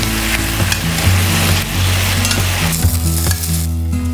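Sausages and pork seasoned with ginger, garlic and salt sizzle loudly in a pan, with constant crackling fry and stirring scrapes up close throughout.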